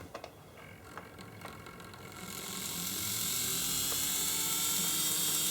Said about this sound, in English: connect these to either end of the motor, just like that, and then I'm going to go to the controller and give it some power